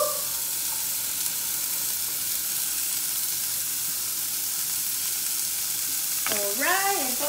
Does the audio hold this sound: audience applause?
no